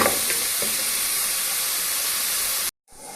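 Medium onion frying in oil as a soup base gives off a steady, close, dense sizzle and hiss that runs without pause, then cuts off abruptly near the end.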